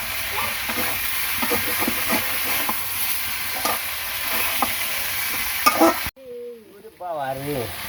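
Goat meat, cooked with jackfruit, sizzles loudly in a pot with repeated stirring scrapes for about six seconds before an abrupt cut to a voice.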